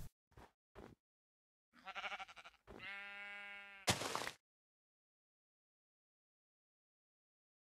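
Sheep in Minecraft bleat in a few short, isolated calls, including a clear drawn-out bleat, separated by silence and close up.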